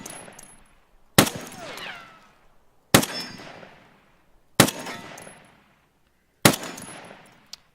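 A scoped rifle fires four single shots at a target in Escape from Tarkov while being zeroed, each a sharp loud crack with a ringing echo, separated by gaps of about two seconds.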